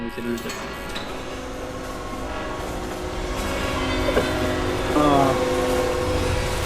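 An approaching train in a Roblox game gives off a steady, even rumble that swells slightly near the end, with a voice talking briefly over it.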